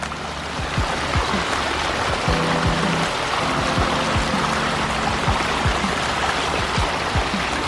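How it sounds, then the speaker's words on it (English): Continuous rushing water pouring steadily over a backyard pond's waterfall spillway, close by, with a broad splashing hiss and no voices. "right underneath that is one of the waterfall spillways"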